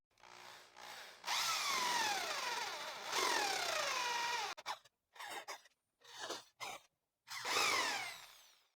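A power drill bores into wood with a 3.5 mm countersink bit, whining in long sustained runs whose pitch sweeps as the bit loads, then breaking into several short bursts separated by silence.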